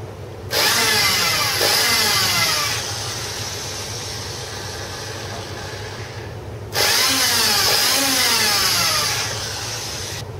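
A handheld electric drill whines steadily as its bit bores into marked metal, running in two long bursts separated by a lower idle drone.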